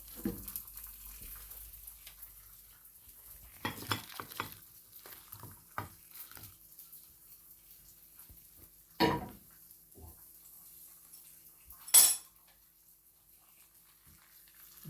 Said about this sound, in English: So let's transfer that to the bowl.